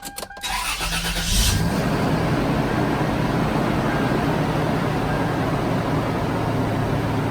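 A 19-year-old third-generation Toyota 4Runner engine cranks briefly, then catches and settles into a loud, steady idle rumble close by, with no voices.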